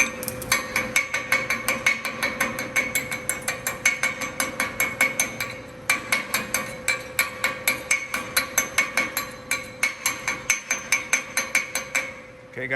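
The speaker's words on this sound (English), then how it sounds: "Let's take the slag off and see how it looks." Slag chipped off a 7018 stick weld bead, a long rapid series of sharp metallic taps and clinks in a steady rhythm, close and loud, with one short pause.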